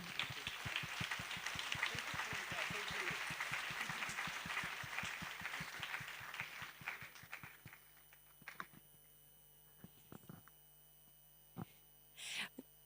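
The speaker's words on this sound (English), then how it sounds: "Warm round of applause for both Priyanka and Manan." An audience at a high-level academic and scientific meeting applauds two people, a dense, loud round of clapping that holds for several seconds, thins to a few scattered claps, then fades into a low mains hum.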